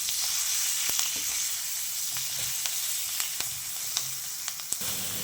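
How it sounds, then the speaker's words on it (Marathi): Salted green chillies fry with garlic in a large pan, giving a steady bright sizzling hiss with a few light spatula clicks near the end, close up and with no talking. "आता यामध्ये आपण ह्याची मीठ लावून ठेवलेली मिरची होती तर ती परतून घेऊया"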